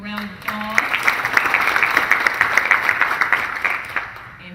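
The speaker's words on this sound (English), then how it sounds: "Give him a round of applause." A room of attendees at a Ft. Lauderdale event applauds an honoree, a brisk burst of many hands clapping that swells after a spoken word and holds steady to the end.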